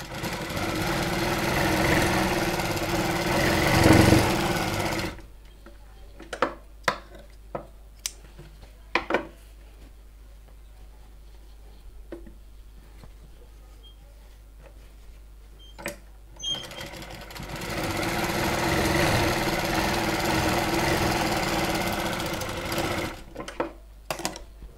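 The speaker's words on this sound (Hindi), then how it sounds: "इसको ऐसे रखेंगे और इस पर लगाएंगे एक किनार की सिलाई" Domestic sewing machine stitching the edge of a blouse piece: two long, steady bursts of fast mechanical whirring, at the start and again later, with scattered clicks and handling taps in the quieter stretch between.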